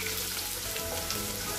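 Onion and coriander seeds frying in a tempering for amaranth pulusu, a dense steady close sizzle filling the short moment without any voices.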